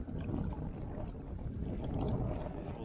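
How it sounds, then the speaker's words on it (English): Paddling a small boat upriver against wind and tide near Brownsea Island, with continuous low rumbling water and wind noise throughout, steady and fairly loud, no talking. "it's much harder to paddle into the wind and the tide than it is to go with the wind and the tide"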